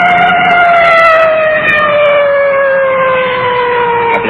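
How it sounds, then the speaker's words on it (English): A loud police car siren wails nearby at a large intersection at night in a sustained, slowly falling tone, with layered harmonics over a low engine rumble. "you can hear that full treatment on the siren."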